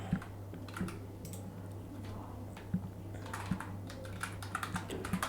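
Steady keystrokes tap on a computer keyboard in irregular quick bursts, close and moderately quiet, over a constant low electrical hum while text is entered in Figma.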